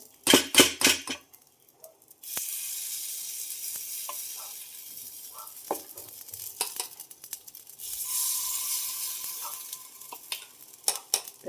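Clattering pan sounds at the start give way to a steady sizzle as rava appe batter fries in a hot appe pan, with scrapes and clicks of utensils throughout.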